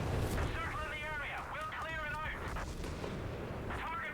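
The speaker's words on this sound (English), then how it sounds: "That definitely is the anti-tank rocket loiter" An anti-tank rocket loiter firing in the video game Company of Heroes 3, heard as a rumbling battle with booming blasts and a whistling, warbling tone, under constant talk from a commentator.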